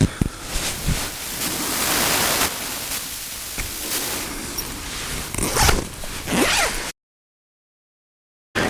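Zipping up a Snugpak Hammock Cocoon while cold-weather camping produces close, rasping zipper pulls in several uneven strokes over about seven seconds, with faint outdoor noise behind them, then silence.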